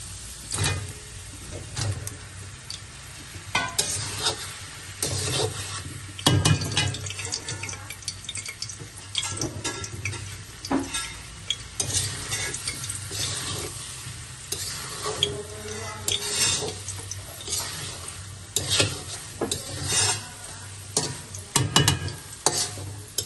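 Prawns go into a pan of sautéed onions at a home birthday cooking session, sizzling on and off under frequent clattering spoon stirs and scrapes, at close range without speech.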